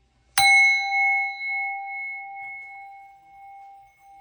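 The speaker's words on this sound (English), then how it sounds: "Ring the bell." A single bell is struck once and rings out with a clear, sustained metallic tone that slowly decays over several seconds, heard alone in a quiet room.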